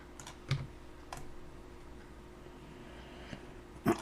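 Mouse clicks while modeling a sci-fi walkie-talkie in Blender 2.8: a few soft, sparse clicks spaced over several seconds, with one sharper click near the end, all fairly faint against a low steady room hum.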